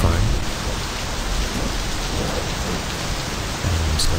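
A thunderstorm in the driving game My Summer Car, heavy steady rain hissing loudly on surfaces with deep rumbling thunder underneath, constant and close throughout.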